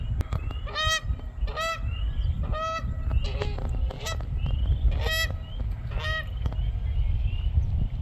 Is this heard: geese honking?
yes